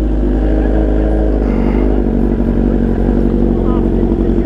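A scooter engine runs close by with a steady low drone and clattering revs while people talk over it.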